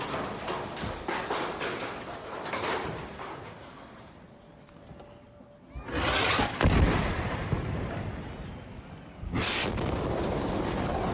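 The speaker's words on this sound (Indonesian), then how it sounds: "Bangunan seketika runtuh total dan rata dengan tanah akibat ledakan besar dari rudal jet tempur" An Israeli missile strike hits a mosque in Gaza: a loud blast erupts into a broad rumbling burst of debris, followed a few seconds later by a second heavy roar.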